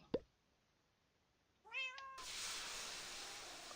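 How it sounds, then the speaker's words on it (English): A Minecraft cat familiar lets out a short rising meow after a soft click, followed by a bright shimmering sparkle effect that swells and lingers. "And now I have my new cat familiar, Simpkin."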